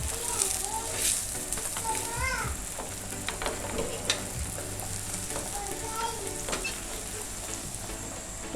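Mooli paratha sizzling on a hot griddle after being flipped, a soft continuous frying hiss with faint scraping stirs and light background sounds, no clear talk.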